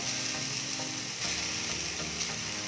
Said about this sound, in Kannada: ಬಾಣಲಿ ಕಾದಿದೆ, ಅದಕ್ಕೆ ನಾನು ಕಾಯಿ ತುರಿನ ಹಾಕೋತಾ ಇದ್ದೀನಿ.